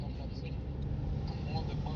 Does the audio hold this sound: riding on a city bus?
yes